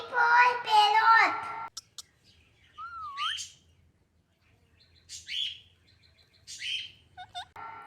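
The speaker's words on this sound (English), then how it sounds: "P for parrot." A parrot gives several bright chirping, whistling calls after a voice in a children's alphabet song, the squawks isolated against near silence.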